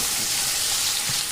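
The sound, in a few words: pointed gourd added to shrimp frying in oil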